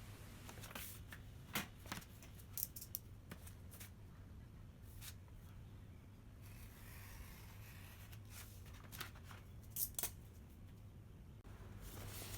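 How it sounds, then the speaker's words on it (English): Scissors cut through kraft paper while a small DIY sketchbook is made from a folded A4 sheet, giving sharp crisp snips and paper rustles at irregular intervals over a faint low hum, close and quiet. "Now I'm folding the paper back again to make the last cut before I can fold up the whole journal book."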